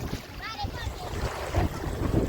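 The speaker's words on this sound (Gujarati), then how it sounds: "દરિયાના પાણીમાં મોજા આવે છે" Sea waves wash onto a beach in a steady, even wash of surf, with wind buffeting the microphone and no clear voices.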